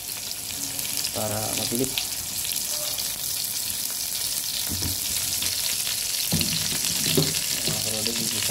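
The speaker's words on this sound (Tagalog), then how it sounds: "gigisa na natin ito" Ginger sizzling and frying in oil in a pan with steady loud crackle, stirred now and then with soft scraping, a brief voice speaking over it.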